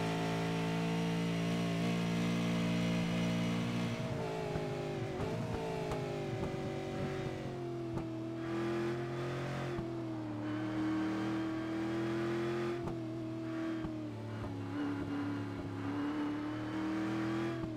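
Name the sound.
race car accelerating on track at Canadian Tire Motorsports Park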